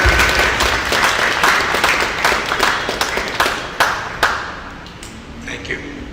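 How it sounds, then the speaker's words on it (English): An audience at a design talk applauds in a dense, steady round of clapping that gradually thins out toward the end, with a few louder individual claps standing out. "Big round of applause."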